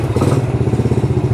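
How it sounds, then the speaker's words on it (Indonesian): A battery-less motorcycle, started with its kickstarter, runs with a close, loud, steady thumping pulse and a faint rattle throughout. "kita harus menggunakan kickstarter"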